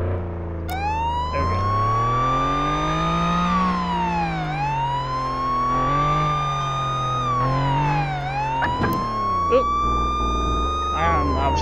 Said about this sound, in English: I gotta find the siren.